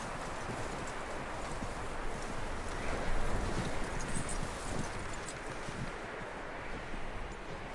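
A horse's hooves clip-clop steadily in Red Dead Redemption 2, a continuous walking rhythm under a constant wash of wind and outdoor ambience.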